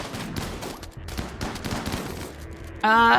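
Sustained gunfire from a colony battle in a video game, dense rapid shots crackling loudly and continuously before a sharp, bright electronic tone cuts in at the end.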